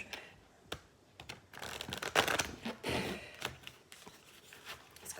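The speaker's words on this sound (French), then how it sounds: "Là, je vais mélanger le jeu." A deck of oracle cards being shuffled by hand, quiet riffling bursts and soft slaps in irregular clusters, close and fairly faint.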